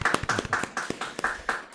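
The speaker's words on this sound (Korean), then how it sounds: "우리 감사의 박수 한번 하도록 하겠습니다." A church congregation claps in thanks after a sermon, a fairly near patter of hands settling into an even, rhythmic beat over a couple of seconds with no talking.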